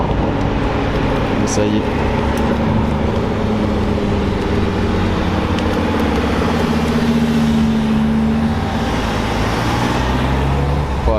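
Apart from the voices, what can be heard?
reconnaissance convoy of cars driving past on mountain road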